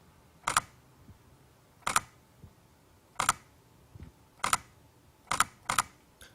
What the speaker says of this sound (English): Let's take a photo and hear the shutter sound.